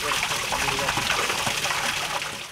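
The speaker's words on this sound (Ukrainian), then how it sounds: "Вода в купіль надходить із криниці, яку живить джерело." Spring water from a well gushes steadily into a bathing pool beside a church in the village of Klyuchivka, a continuous close rushing splash with no pauses.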